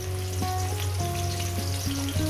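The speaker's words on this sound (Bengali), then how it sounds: "এবার এই আলুটাকে সুন্দর করে ভাজার মধ্যে যাতে সিদ্ধ হয়ে যায় সেইভাবে আপনারা ভেজে দেবেন" Potatoes with turmeric powder sizzle steadily in a hot pan, a close, continuous frying hiss with a sustained tonal hum running beneath it and no talking.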